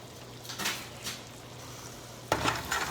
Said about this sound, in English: And now we're gonna stir this up.